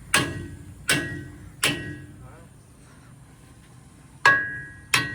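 A hammer strikes a tractor's gear drum in a series of sharp metallic clangs with ringing overtones, three spaced blows, a pause, then two more. The sound is close and clear, with faint background noise between the hits.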